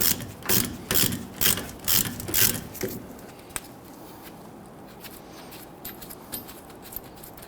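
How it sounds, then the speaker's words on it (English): A hand ratchet turning an 18 mm swivel socket on a long extension, used on a 2010-2019 Ford Taurus wheel bearing and hub job, gives several quick bursts of close clicking, then quieter scattered taps and rustles. "I'm just using our swivel 18 millimeter with the long extension."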